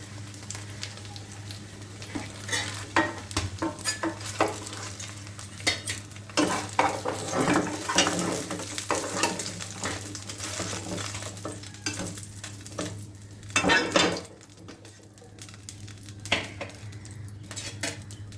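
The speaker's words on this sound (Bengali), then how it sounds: "আলু সহ আমি একসাথে ভেজে নিলাম" Fritters and potatoes fry together in a pan with a continuous sizzle, while utensils repeatedly scrape, tap and clatter against the cookware at close range.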